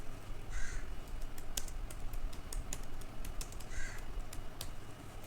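Keys on a computer keyboard are tapped in quick, irregular clicks close to the microphone, over a faint steady background hiss.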